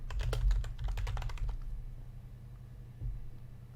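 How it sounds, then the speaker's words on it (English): Rapid computer-keyboard typing during play of the video game Her Story, a quick burst of clicky keystrokes over the first second and a half, then quiet with a single soft knock near the end; no talking. "And we type in parents too"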